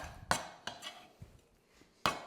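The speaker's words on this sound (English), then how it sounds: "So this hand mincing technique with a cleaver" Pork being hand-minced with a cleaver on a board, a few sharp separate chops at uneven intervals, close and fairly loud, with quiet gaps between strikes and no talking.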